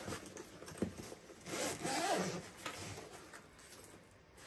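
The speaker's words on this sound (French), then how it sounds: "Deux fermetures éclair." Zipper on a rigid-sided white and red Hobbytech Racing transport bag for 1/8 scale RC cars, pulled in a few short rasping strokes with soft fabric rubbing, fairly close and alone.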